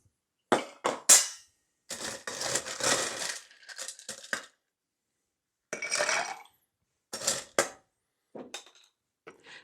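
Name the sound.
cocktail shaker with ice being shaken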